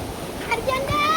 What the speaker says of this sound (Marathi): ही बघा नदी